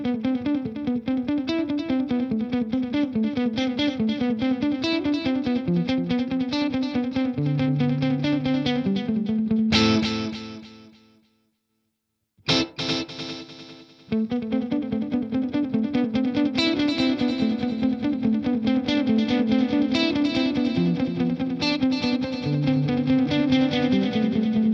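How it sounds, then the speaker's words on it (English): Electric guitar played through a BOSS Katana amp with two offset delays stacked in series, giving dense, distorted repeating notes; the playing stops briefly for a pause with a short trailing echo, then resumes just as loud. "So I have this offset delay and we can hear them in series to create a really interesting effect."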